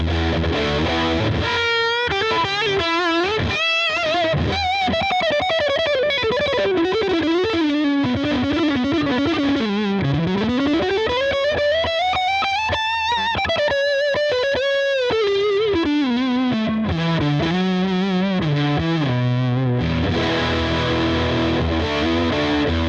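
Electric guitar played through a Boss Nextone amp with the gain turned up, a continuous distorted, crunchy tone with bending lead notes and sustained phrases, loud and steady without talk.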